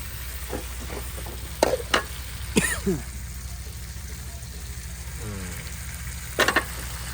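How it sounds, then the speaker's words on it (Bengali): Deshi shing and magur fish jhol, about two kilograms of fish, cooks in a pan with a steady sizzle and scraping stirs. A few sharp knocks punctuate it, and a brief throat sound comes up close. "পুরো মাছগুলোই হচ্ছে এখন কিন্তু আমরা রান্না করছি"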